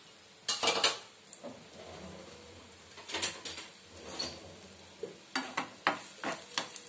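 Garlic, ginger and onion frying in a pan, heard as a soft sizzle beneath several clattering stirs and utensil scrapes against the pan, arriving in short bursts.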